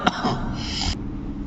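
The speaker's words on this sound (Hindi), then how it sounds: "हाँ थोड़ी खांसी सी हो गई" A single short cough burst close to the mic, followed by a brief rough throat noise, then quiet.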